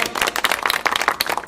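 A restaurant audience claps for a featured singer as she is introduced, a short, steady burst of dense hand-clapping at moderate volume with no voices over it.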